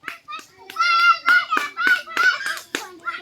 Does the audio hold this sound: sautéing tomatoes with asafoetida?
no